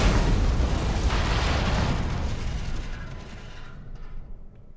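A large explosion in The Walking Dead video game, a loud broadband boom whose rumble holds for a couple of seconds and then slowly decays. No speech is audible.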